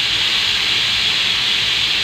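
A pressure cooker vents steam in one continuous, loud, close hiss that stays level throughout with no breaks and no talking.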